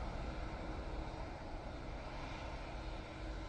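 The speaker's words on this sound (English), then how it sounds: "Next in, we've got the ATR 76 or 72, 600 coming in from Guernsey." An ATR 72-600 turboprop arriving from Guernsey at Manchester Airport gives a steady, broad engine roar that holds at a fairly even level throughout, with no talk over it.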